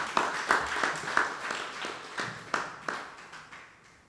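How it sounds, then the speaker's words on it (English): Sparse applause for the construction group at a community centre handing-over ceremony, a dozen or so distinct, fairly quiet claps in an uneven rhythm that fade toward the end. "So could we give a round of applause to the construction group?"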